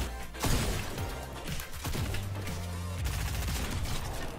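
Gold pump shotgun blasts in a shooter video game, loud and booming within a dense, continuous wash of gunfire, crashes and game noise.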